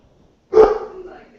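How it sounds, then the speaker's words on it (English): A dog gives one sharp bark, fairly close and loud, that trails off into a short whimpering tail after a moment of near silence. "Your dog's barking."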